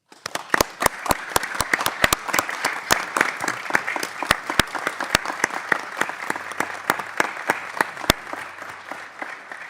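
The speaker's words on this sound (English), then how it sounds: "give her a round of applause" Sparse applause in a House Financial Services Committee hearing room: a small group clapping, each clap sharp and distinct, steady over about ten seconds and fairly close.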